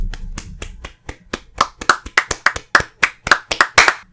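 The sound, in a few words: clapping hands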